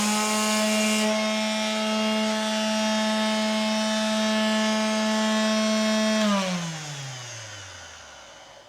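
An INGCO CDSLI2051 cordless battery sander runs with a steady, smooth high whine for about six seconds, then switches off and winds down with a falling pitch, with no talking.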